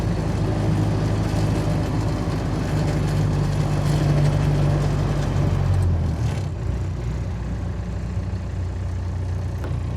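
Diesel Jeep Wrangler YJ cruising a country road, a steady loud low engine drone with road rumble inside the cab, the pitch dropping briefly around a gear change partway through.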